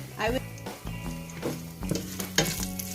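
Garlic sizzles in hot oil while browning for lomi, a close crackling fry with repeated stirring clinks and scrapes of a utensil against the pan, over a faint background hum.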